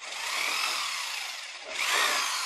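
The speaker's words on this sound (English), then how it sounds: "we're going to drill" A power drill whines steadily as it bores holes into conduit, dipping briefly before revving back up; no talking.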